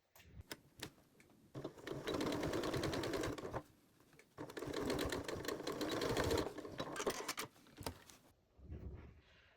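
A sewing machine stitches the seam of a fabric bow napkin ring at a 1/4 inch seam allowance. Close, steady whirring comes in two long runs, each led by a few short starts and stops, with no talking.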